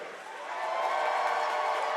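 Crowd cheering fills a gym at a high school sectional final volleyball match, a steady roar of voices that swells and then holds loud.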